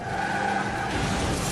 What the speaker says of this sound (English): Car wreck.